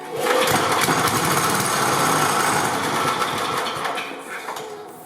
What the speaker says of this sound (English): so I'll give this a few sideways pulls and see if it'll fire.